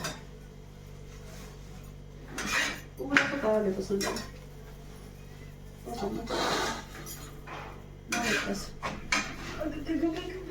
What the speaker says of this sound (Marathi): एवढी भांडी घासायची आता ही भांडी सगळी